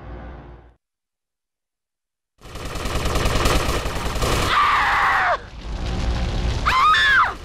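Gunfire crackles in the video game GTA Vice City, a dense fusillade of rapid shots with booms and screams after a short silence.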